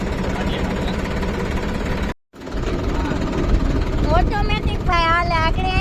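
A tractor engine running as the tractor turns on its own, a steady rumbling drone broken by a brief dropout, with people talking over it.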